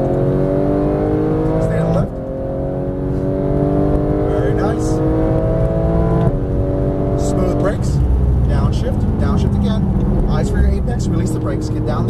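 A Porsche GT3 991 accelerates hard on a race track, its engine rising loud and close through the gears with pitch climbs broken by upshifts. A voice talks over the engine throughout.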